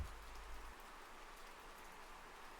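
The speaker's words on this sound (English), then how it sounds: "where the gentle rain creates a symphony with each droplet that kisses the pond's surface" Gentle rain falling onto a pond surface makes a steady, even hiss of countless droplets, with no pauses and no voices.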